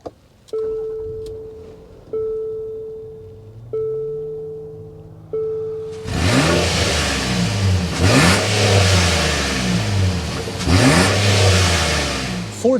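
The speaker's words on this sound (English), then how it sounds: "start it up so you can hear that exhaust note." A 2024 Infiniti QX60 SUV engine starts with a few short cranking bursts, then revs loudly several times, the exhaust rising and falling in strong repeated surges.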